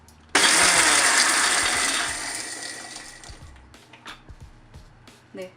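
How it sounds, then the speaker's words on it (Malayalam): A mixer grinder crushes fried ginger and onion in its jar, an abrupt loud whirring burst that winds down over about two seconds, followed by scattered knocks and rattles. "നല്ലതായിട്ട് തുടച്ച് ഒരു മിക്സിയുടെ ജാറിലിട്ട് ഒന്ന് ക്രഷ് ചെയ്തെടുക്കണം."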